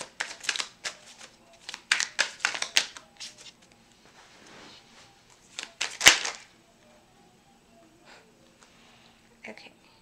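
Tarot cards being shuffled close by, quick riffling bursts in a loose rhythm early on, one sharp snap in the middle, then mostly quiet handling with faint breathing.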